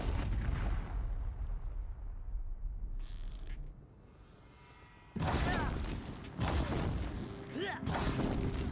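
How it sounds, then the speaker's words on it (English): Explosions go off in a video game set around the southwest. After a quieter stretch, several loud, broad booming blasts hit in quick succession. "Is he close enough for this explosion?"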